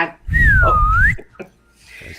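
A single sustained whistle tone, sliding down then back up in pitch, loud and close over a low rumble, followed by quieter background noise.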